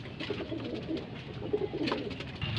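Pigeons coo softly during feeding, with low repeated coos over a faint background rustle and hum. The sound is close but quiet, and nobody speaks.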